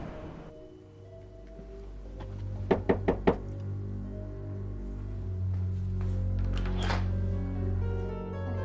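Three sharp knocks strike a door in quick succession against a steady background of rain-like hiss and a low hum.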